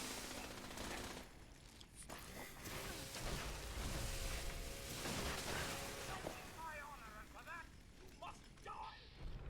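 Turret machine-gun fire rattles in the video game Fallout, rapid bursts of gunfire mixed with explosive rumbles and mechanical clatter, with other game sounds layered on top.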